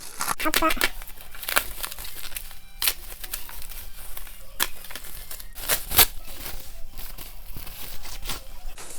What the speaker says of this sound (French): on va déballer au fur et à mesure tout ça